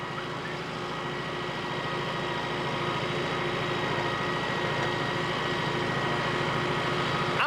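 A tractor engine drones steadily while someone rides it on a homestead driveway job, a continuous low rumbling hum at constant loudness with no pauses and no talking.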